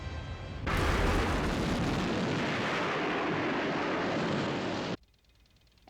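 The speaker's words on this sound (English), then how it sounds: "Detonate." A loud, sustained roaring blast of a detonation, a broad rumbling wash that begins abruptly, holds for about four seconds, then cuts off sharply to near silence.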